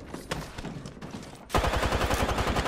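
Rapid automatic gunfire erupts in an Apex Legends match, a loud sustained burst of evenly spaced shots following a quieter stretch of game noise.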